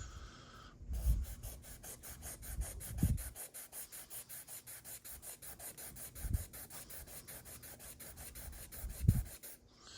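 Sandpaper rubs back and forth across a 3D printed model car body in fast, steady strokes, a quiet rhythmic rasp that runs nearly unbroken, with a few soft thumps underneath.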